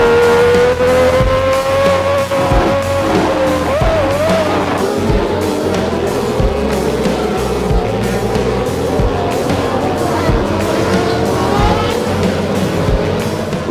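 Formula 1 race cars roar loudly off the start, with engine whine sweeping upward, tyre squeal from Nigel Mansell's car spinning its wheels, and the dense roar of the pack continuing throughout.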